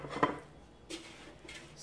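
Philly-style Hasselback chicken being lifted out of a hot pan, with a sharp metal clink near the start followed by two softer knocks of utensil against pan, close by and with no talking.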